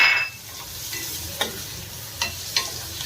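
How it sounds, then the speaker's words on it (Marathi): Hot oil sizzles softly while a spoon scrapes and taps the pan a few times, stirring onion freshly added to a tempering. "आता मी यामध्ये कांदा घालणार आहे."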